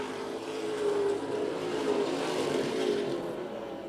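Race cars at Wiscasset Speedway, engines droning and swelling in pitch as they pass, a continuous mid-distance roar rising and fading around the track.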